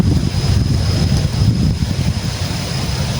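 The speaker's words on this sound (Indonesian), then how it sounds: "Angin deras sekali, Bro." Strong wind blows hard across the microphone, a constant dense low roar with gusty fluctuations, loud and unbroken, with no voices.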